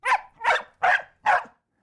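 An excited puppy barks four times in quick succession, sharp and close, each yap evenly spaced in an otherwise quiet room.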